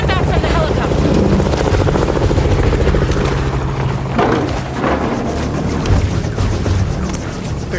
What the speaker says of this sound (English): Stand back from the helicopter.